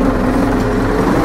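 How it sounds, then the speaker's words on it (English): A Zetor 7245 tractor engine runs as the hydraulics for a flail hedge cutter boom are switched on, giving a steady, close, low diesel drone with no talk. "Hear the engine drop as they come on."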